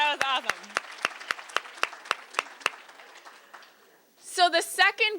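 A group claps in unison, a steady series of about ten crisp, evenly spaced claps that fade out, with voices speaking briefly before and after.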